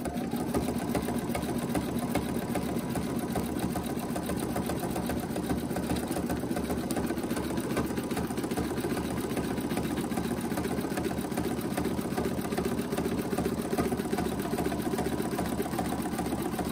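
An NQ1700E embroidery machine stitches a tack-down line for an in-the-hoop hip hugger bag, giving a steady, close mechanical whir and needle chatter that runs unbroken throughout with no talking.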